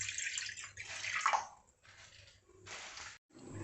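Water is poured into a pan to make a thin sugar syrup for a sweet, a close splashing gush in several short pours with brief pauses between them.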